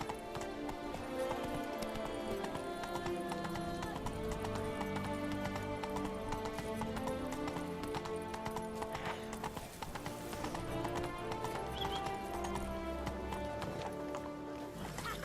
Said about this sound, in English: That's it, Roach. Come on now. Come on, Roach